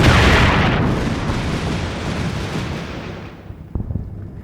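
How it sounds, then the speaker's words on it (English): Mortar shells landing in the WWII strategy game Combat Mission: Final Blitzkrieg, a loud rumbling blast that fades over several seconds, followed by a couple of sharper, smaller impacts near the end. "here come the mortars. Okay, there's those hit in a good spot"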